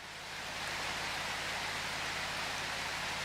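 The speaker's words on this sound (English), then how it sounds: "I think it started raining now, hasn't it?" Rain in the video game Prologue: Go Wayback!, a steady, even wash of hiss that rises in at the start and holds without any voices.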